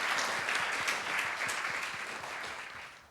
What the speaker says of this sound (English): Please first give a huge round of applause for her.